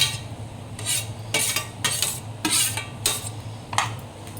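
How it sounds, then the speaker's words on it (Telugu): Chopped carrots being stirred into cooked onions in a pan, a series of scraping, rustling strokes with occasional utensil clinks against the metal, fairly close, with no voices. "ఇలా కట్ చేసుకున్న ముక్కలన్నీ ఇలా కలిపేసుకోవాలి."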